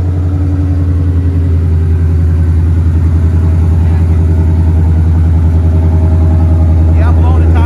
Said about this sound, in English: Yeah, I'm blowing the tires off, man.